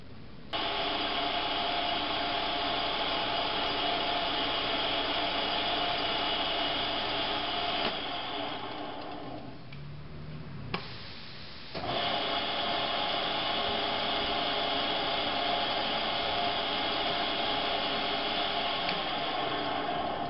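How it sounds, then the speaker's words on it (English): Machine shop power tapping with a Cleveland 3/8-16 three-flute bottoming tap, threading a hole straight through a chuck backplate; a steady, loud motor whine runs throughout, dipping briefly near the middle before resuming, with no talk. "it's a Cleveland 3/8 by 16 3-flute bottoming tap. We're going to power tap straight on through out the back side."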